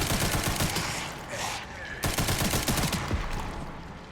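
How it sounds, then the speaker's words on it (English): SMG fire in Resident Evil Requiem comes as rapid, continuous automatic bursts, fairly close, with a brief break around the middle before the firing resumes. "Alright, we'll use the SMG."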